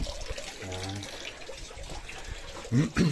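Water runs continuously from a tap into a basin as a steady rushing flow, with voices talking over it.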